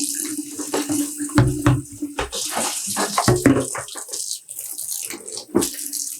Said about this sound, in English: Add in some clean water.